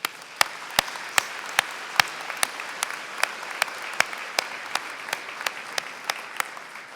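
Audience applause at a Ferris State University fall commencement ceremony, steady dense clapping from a large crowd with a few sharper individual claps standing out, holding at an even level throughout.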